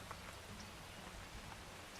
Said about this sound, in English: very rainy late spring now